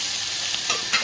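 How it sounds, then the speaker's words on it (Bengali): Parshe fish frying in a little oil, a brief close, steady sizzle with faint stirring, no voices. "পার্শে মাছগুলো ভাজা হচ্ছে,"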